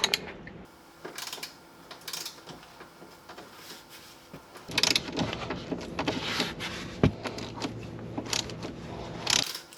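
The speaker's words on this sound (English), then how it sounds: "We're going to take a T45 Torx bit, undo the front seat brackets." A Tesla Model 3's front seat bracket bolts being undone with a T45 Torx bit, close ratcheting clicks and mechanical rattles, sparse at first and then busier and louder, with no talking.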